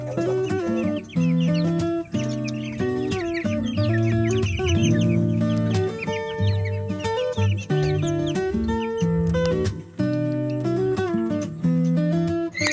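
Several backyard-farm chickens cluck and squawk continuously nearby, layered and overlapping, with bright calls rising above a busy, steady chorus.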